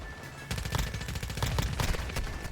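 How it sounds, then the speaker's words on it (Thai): Gunfire in the mobile game Call of Duty Warzone Mobile: rapid bursts of shots crackle in a dense, steady stream with no break and no speech. "ใครยิงวะ"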